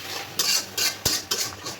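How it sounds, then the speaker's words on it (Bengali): Ground onion, garlic, turmeric, chili, coriander and salt cook down in oil as a spoon stirs the spice paste, with repeated metallic scrapes and knocks against the pan over a low sizzle. "মশলাটা কষাচ্ছি"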